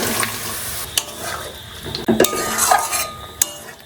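Spoon stirring boiled potatoes into a sizzling, fried spice masala for aloo dum, with scraping clinks of metal against the pan and a steady frying hiss, near and moderately loud.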